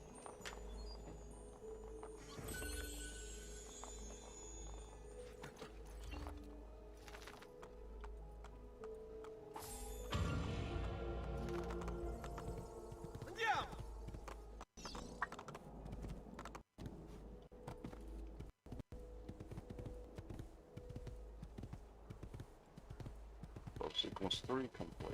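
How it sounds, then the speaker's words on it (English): Clip-clop of a horse's hooves in the Assassin's Creed 2 video game, a steady rhythmic clatter running under game music and effects while someone talks over it. "there's a horse out here if we decide to run it."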